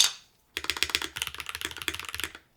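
Typing on a Smurve80 mechanical keyboard kit fitted with Cherry Nixie switches with milky tops, a quick close run of crisp clacking keystrokes after a brief pause, with no talking.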